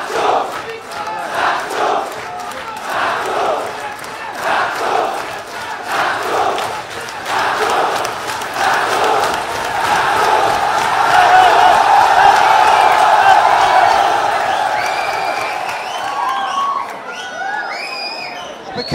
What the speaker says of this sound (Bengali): একটি স্লোগানে তারা দিচ্ছিলেন ঢাবি ঢাবি, কোন নির্বাচন আছে কিনা, ঢাবি ঢাবি।